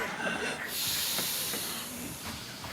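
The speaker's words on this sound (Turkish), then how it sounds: "Evet, böyleyken nefes alıyoruz." Heavy breathing during a diaphragm breathing exercise makes a loud, airy hiss that swells and eases over a few seconds, close to the listener with no clear talk.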